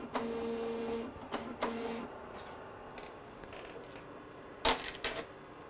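A printer runs off a sterilization log in a short burst of mechanical print noise near the start, then pauses, with a few sharp clicks and clatters toward the end and no talk.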